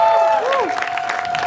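An audience's brief applause and cheering at a Hindi-language show, crowd noise rising under a sliding whistle-like tone that sweeps and then holds steady.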